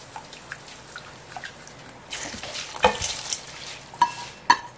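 Coarse salt is stirred into water for pickling shredded cabbage, giving soft swishing and gritty scraping that grows busier midway, then a few sharper clinks near the end, close and quiet.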